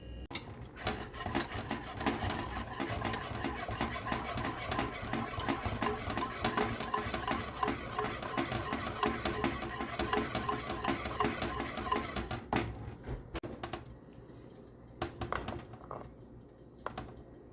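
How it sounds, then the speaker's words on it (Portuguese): Cream being stirred in a pot over high heat for a Arabic-style filled semolina sweet, a steady rapid scraping and rubbing of the spoon against the pot, continuous and close, thinning out near the end. "E vou ficar mexendo até ele ficar grosso"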